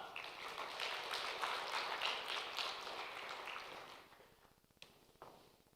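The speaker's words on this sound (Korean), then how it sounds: "격려하는 박수로 맞도록 하겠습니다" A church congregation at a Sunday afternoon service claps steadily for several seconds to welcome the pastor, a soft, even patter of applause that fades out toward the end.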